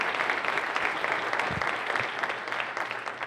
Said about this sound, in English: let's give our governor and the First Lady a big round of applause